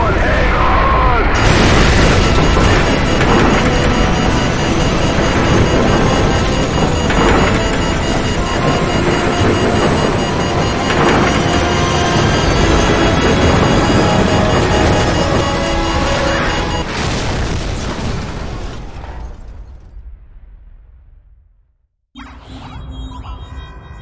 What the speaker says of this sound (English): What appears to be an explosion of epic proportions remains sketchy and unconfirmed.